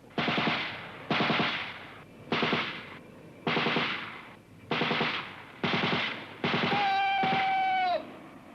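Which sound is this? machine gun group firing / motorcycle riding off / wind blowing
machine gun group firing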